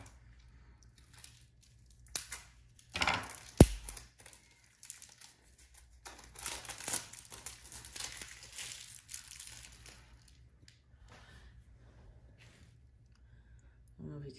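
Inner paper wrap being pulled off taper candles from a holiday box, close crinkling and crumpling paper with a few sharper tearing bursts early on, then softer intermittent rustles, with a little quiet speech in places.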